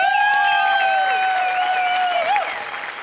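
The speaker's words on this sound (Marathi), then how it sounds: "सगळ्यात आधी जोरदार टाळ्या विनायक पुरुषोत्तम साठी." A studio audience applauds for Vinayak Purushottam at the Maharashtrachi Hasyajatra comedy stage show, giving steady, dense clapping for about three seconds with sustained musical tones ringing over it.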